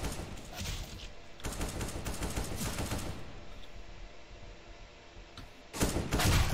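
Rapid AK-47 bursts in Counter-Strike: Global Offensive, loud and close, with a sustained volley, a short pause, then another heavy burst at the end; no talking.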